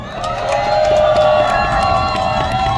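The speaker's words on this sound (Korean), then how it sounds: "커다란 박수와 함성을 부탁드리면 어떨까요?" An outdoor campaign rally crowd on a bridge in Hongseong, cheering and shouting in a continuous, loud roar with whoops, strong and sustained throughout.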